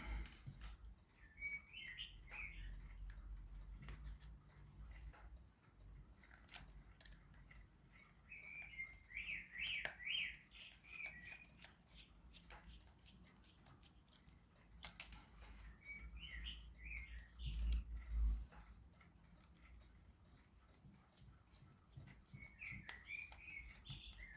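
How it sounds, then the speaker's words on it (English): A bird chirps outside in short repeated bursts of high tweets every few seconds, fairly distant, over faint clicks and low background rumble. "Got a noisy bird out there, haven't we?"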